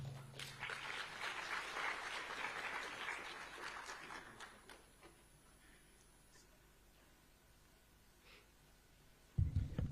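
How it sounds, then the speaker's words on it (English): An audience at a women's conference at the Kenya School of Government, Lower Kabete, gives a round of applause, moderate clapping that fades out over about four seconds into near silence before a brief low sound at the end. "A round of applause again, ladies and gentlemen"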